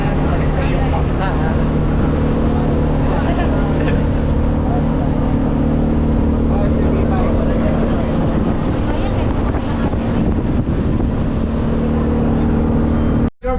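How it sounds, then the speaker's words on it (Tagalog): A small outrigger boat leaves shore on a Boracay island-hopping trip, its loud motor droning steadily up close amid wind buffeting, then cutting off abruptly at the end. "Ayan, alis na yung bangka."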